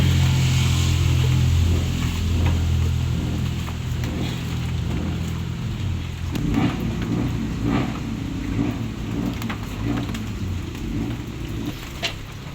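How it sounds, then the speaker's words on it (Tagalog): Steady rain falls outdoors in the Philippines, a continuous dense hiss with low rumbling that holds for the whole stretch without talk. "ngayon po ay sunod-sunod na po ang pag-ulan"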